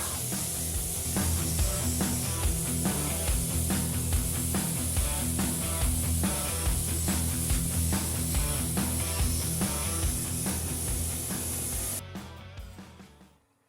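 Rust cure sprayed onto an old rolled steel vise during restoration, a steady close hiss running without a break for about twelve seconds before cutting out and fading.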